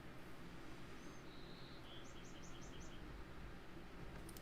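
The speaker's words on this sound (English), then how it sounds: "The bird is hanging out in the tree outside" In the late evening, a bird calls from a tree outdoors, faint and distant: a thin whistled note, then a quick run of five short repeated chirps, over a quiet steady background hum.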